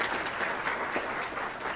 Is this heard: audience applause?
yes